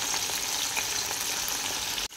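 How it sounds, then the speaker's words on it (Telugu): Korean fried chicken pieces deep-fry in hot oil with a dense, steady bubbling hiss up close. The sound cuts off abruptly near the end. "చికెన్ పీసెస్ అయితే మంచిగా ఫ్రై అవుతున్నాయి."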